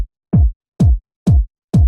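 Only the low end of a deep house kick drum plays: four or five heavy, booming thuds with little top end, evenly spaced and loud.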